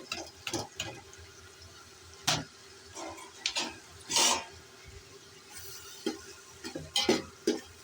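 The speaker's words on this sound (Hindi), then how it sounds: "8 से 10 मिनट तक भून लेंगे हम मसाला और चने।" Black chickpeas being fried in spice masala for a chana biryani, stirred with a spoon, giving intermittent scraping and clinking strokes over a low sizzle, close and fairly quiet, with no talking.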